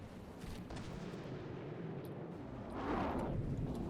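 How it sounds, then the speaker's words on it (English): Torpedoes strike ships in a naval battle video game, a low, muffled rumbling boom that swells after a steady background roar, heard alone without voices. "Here go the torpedoes in a ballistic angle this time."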